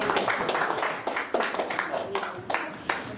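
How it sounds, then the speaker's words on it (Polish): An indoor audience at an artistic makeup contest award ceremony claps in a steady, moderately close ripple of applause, with sharper individual claps standing out and a voice speaking over it. "Wielkie brawa."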